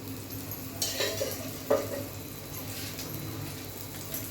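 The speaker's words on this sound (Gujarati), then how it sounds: "હવે આપણે તવી પણ આ બાજુ ગરમ થઈ ગઈ છે નાખી દઈએ રોટલી ને તેના ઉપર તેલ લગાવી દઈએ" Potato paratha laid on a hot griddle and brushed with oil, giving a steady close sizzle and hiss with a couple of brief scraping touches, no talking.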